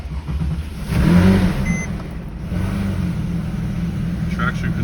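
A salvaged Porsche 997 GT3RS engine cranks and catches with a surge of low rumble, then settles into a steady idle while short dashboard beeps chime and someone talks nearby.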